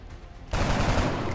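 Soldiers' gunfire in XCOM: Enemy Unknown, a sudden loud burst halfway through that holds as a dense sustained volley after quieter background sound.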